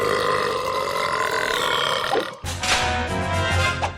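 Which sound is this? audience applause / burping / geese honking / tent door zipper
burping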